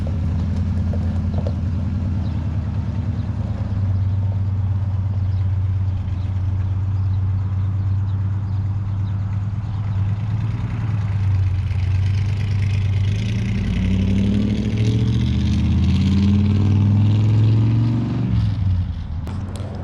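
A 1975 Ford Highboy truck with a swapped-in 390 engine rumbles loudly and steadily up close. The low engine note shifts and rises as the truck pulls away, with no clear talk over it.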